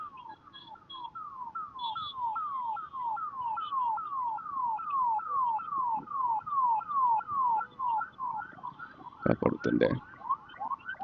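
An ambulance siren wailing in fast repeating falling sweeps at moderate distance, steady for several seconds, then cut by a few loud, sharp bangs near the end.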